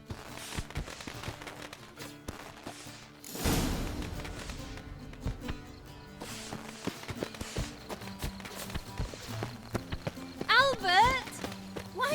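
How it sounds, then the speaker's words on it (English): Horse hooves clip-clop in The Witcher 3: Wild Hunt, a steady run of light, even thuds under game music and ambience, rising to a brief louder burst near the end. "Saddled horses await in the stables."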